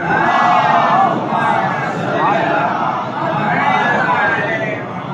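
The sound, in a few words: crowd chanting salawat in response at a majlis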